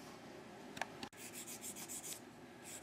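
Fine micro mesh sandpaper rubbing over a wooden fiddle peg during an 1860s-style fiddle setup, a quiet close scratchy rasp in short repeated strokes with a sharp tap partway through.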